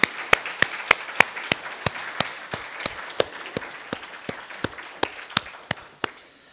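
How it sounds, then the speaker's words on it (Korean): An Easter church congregation claps together in a steady unison rhythm, distinct sharp beats roughly three per second over a soft room wash, gradually easing in force before stopping. "박수 한번 드릴까요?"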